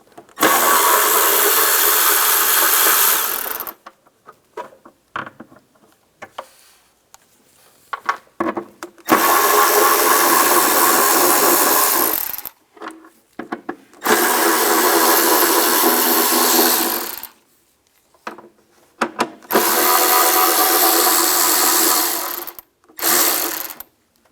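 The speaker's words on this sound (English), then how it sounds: "I'm going to take these bolts out of the cover, use a 10mm socket." A power tool with a 10mm socket backs bolts out of a cover on a Toyota 4Runner, in three long whirring runs separated by short pauses filled with faint clicks and handling noises.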